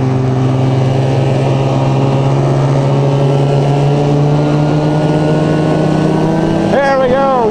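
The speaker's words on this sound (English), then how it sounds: "that's the belt slipping on the clutches" A Moto-Ski snowmobile engine drones steadily and loudly while its drive belt slips on the clutches, then the revs rise and fall sharply near the end as the throttle is applied.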